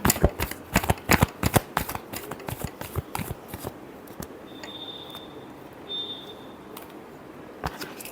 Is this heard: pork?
no